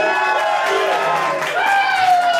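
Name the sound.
crowd applauding and cheering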